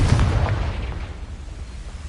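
A Confringo fire spell explosion in Hogwarts Legacy, one deep booming blast at the outset followed by a rumbling tail that fades out over a couple of seconds.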